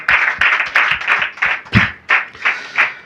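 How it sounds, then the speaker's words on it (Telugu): A church congregation claps in a steady, rhythmic beat of about ten loud, close, evenly spaced claps, with no talk over it. "అందరూ చప్పట్లు కొడదామా?"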